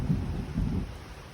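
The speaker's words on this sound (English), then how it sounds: "It's starting to pour." Heavy rain pours steadily during a thunderstorm, with a low rumble of thunder rolling underneath the broad hiss of rainfall.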